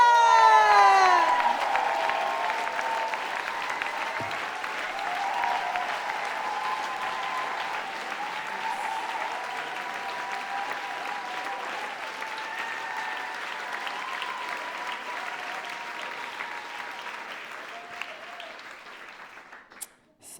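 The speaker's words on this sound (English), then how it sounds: "A big applause for Jules Gleeson!" A live comedy show audience breaks into loud, sustained applause with some cheering and whoops, holding steady for about twenty seconds before tapering off at the end.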